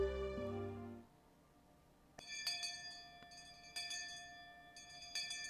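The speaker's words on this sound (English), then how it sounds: "Just then we heard a bell, far away, marking the end of our lunch break." A distant school bell in the Higurashi video game chimes in a series of clear, ringing tones over a quiet background, after a fading musical note.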